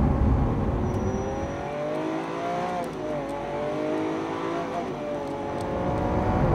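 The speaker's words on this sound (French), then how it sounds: "Ce moteur c'est une caricature, ça donne l'impression de cracher du feu, c'est hallucinant." Lamborghini Aventador SV with its rear-mounted V12 revving loudly, pitch climbing and falling in sweeping waves as the engine spins up and settles, close and dominant with no voices.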